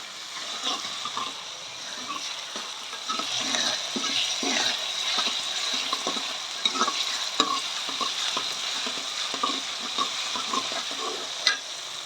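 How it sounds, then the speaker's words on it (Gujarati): Spices tempering in hot oil in a pan, a close, steady sizzle with frequent sharp scrapes and knocks from stirring, no voices. "ખૂબ જ સરસ વઘાર આવી જાય બધું સોતરાઈ જાય સારી રીતે"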